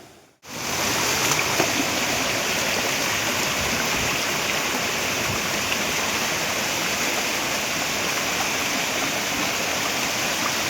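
Fast stream water swollen by the first monsoon rains rushes in a loud, unbroken roar close by. It holds steady for about ten seconds after a brief quiet start, with no talking.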